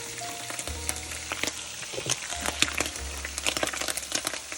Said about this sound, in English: That is splattering